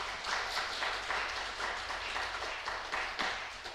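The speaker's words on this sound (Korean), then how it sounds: "우리 축하한다고 이렇게 박수를." Congregation applauding during a Sunday Easter morning service in a church, a steady wash of many hands clapping that runs through the whole moment at moderate volume with no talk over it.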